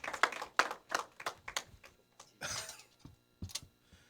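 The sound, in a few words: congregation applauding to welcome the pastor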